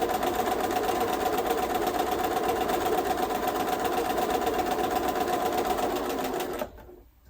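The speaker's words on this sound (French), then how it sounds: "je baisse mon aiguille, hop, et c'est parti pour une petite couture droite" A sewing machine runs steadily while stitching a straight seam on a small fabric pouch, its needle whirring in a fast even buzz for several seconds before it stops abruptly near the end.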